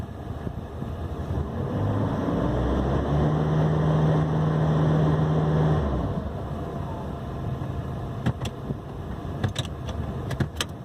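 Nissan D40 pickup engine, after an EGR fix, revving up and holding a steady raised speed of about 2400 RPM for a few seconds, then settling back. Loud and close, with a few sharp clicks near the end and no talk.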